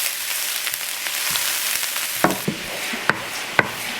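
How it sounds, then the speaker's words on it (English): Eggs are scrambled in a frying pan for cauliflower shrimp fried rice: a steady close sizzle with a few sharp spatula knocks near the end. "So we're scrambling our eggs."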